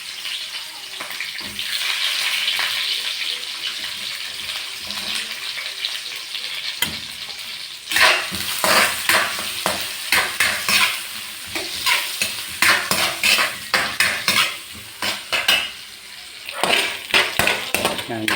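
White onions sauté in a pan for a beef bone caldereta, with a loud steady sizzle that turns into close, rhythmic stirring scrapes and clatters during the second half.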